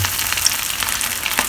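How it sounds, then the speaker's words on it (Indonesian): Milkfish pieces fry in hot oil, a steady, dense sizzle and crackle throughout with small pops, close and loud, no voices. "minyak pun dah panas, kita masukkan ikan kita untuk goreng biasa."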